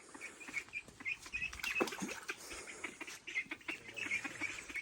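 Ducks quack and chatter softly nearby in short, scattered bursts around a small farm pond over quiet outdoor background.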